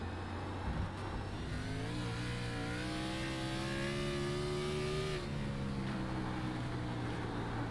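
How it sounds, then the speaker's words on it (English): Race car engine heard from an on-board view in a virtual racing league sim game at the Charlotte Roval, a loud steady drone with rising and falling pitch as the car accelerates and shifts, alone without talk. "But you can hear that car."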